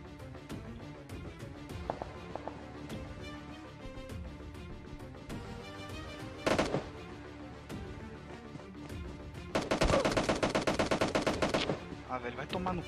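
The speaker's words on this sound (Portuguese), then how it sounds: "Tiro de carro." Rapid gunfire from a car in the mobile game PUBG Mobile: bursts of automatic shots crack in quick rhythmic volleys, including a dense loud burst near the end, over game ambience.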